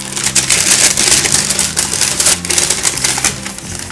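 Someone closes a paper bag by crinkling it and stapling it shut. Dense, close paper rustling is broken by sharp, repeated clicks, with no voices.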